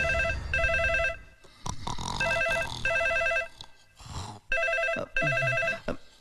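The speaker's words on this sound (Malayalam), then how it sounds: "സാറേ ഫോൺ." Telephone bell ringing in repeated loud bursts, sounding as separate rings with short gaps between them, plus a few brief noises in the gaps.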